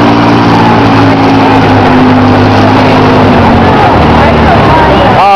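A tractor engine roars loud and close at a country tractor pull, a steady heavy drone with shifting pitch that fills the whole stretch.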